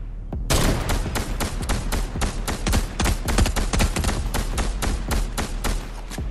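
Rapid gunfire in the Fortnite video game, a dense loud volley of sharp shots fired in quick succession for several seconds, with no talk over it.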